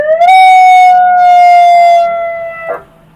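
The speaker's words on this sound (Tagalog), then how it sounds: "So tapos ito yung different mode yan ng siren." A police siren on a Wuling Gameboy police and rescue vehicle built by Atoy Customs rises quickly into a loud, steady wailing tone. The tone holds, then cuts off with a brief squawk near the end.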